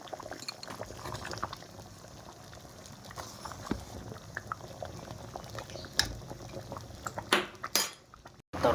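Lentil dal with two fish heads, salt and turmeric boiling in a pot, a continuous low bubbling simmer with occasional clinks of utensils and a few sharper knocks near the end, moderately quiet and close.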